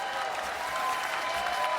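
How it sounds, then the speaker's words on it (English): An audience at the 2025 MLB awards applauds a baseball player, with loud, dense, even clapping that continues unbroken throughout and no voices on top. "can we please give a round of applause to this unbelievable baseball player, Cal Raleigh."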